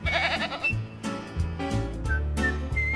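A calm, gentle goat bleating close by, a few wavering, drawn-out cries one after another, with no talking over them.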